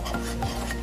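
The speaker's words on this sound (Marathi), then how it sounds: "कढईमध्ये तूप घेतलेलं आहे, त्यामध्ये आता आपल्याला बेसन छान खमंग असं भाजून घ्यायचं आहे" Besan being roasted in ghee in a kadhai, a soft, steady scraping stir with a faint continuous sizzle underneath, close and fairly quiet for under a second.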